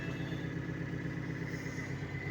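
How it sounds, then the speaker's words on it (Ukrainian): A John Deere 2850 tractor plows a field with a PLN 3-35 plow, its engine giving a steady, faint, low-pitched drone. "Сьогодні провожу оранку трактором John Deere 2850"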